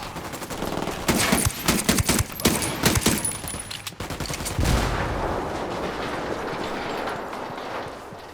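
Gunfire in Ghost Recon Wildlands: a rapid burst of loud, cracking shots fills the first few seconds, then gives way to a lingering rumbling wash of noise.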